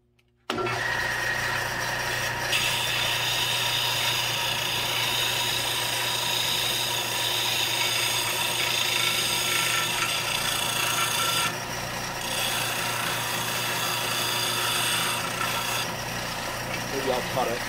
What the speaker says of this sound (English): And try to round it off on my sander and then see how it goes.